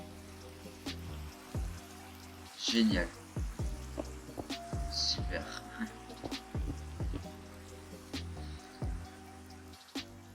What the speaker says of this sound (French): Il se met à pleuvoir tout d'un coup.